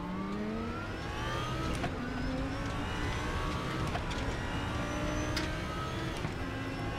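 Audi R8 LMS GT3 race car in the sim RaceRoom, its engine revving up repeatedly through quick gear shifts, each rising sweep cut by a short shift break, loud and close throughout.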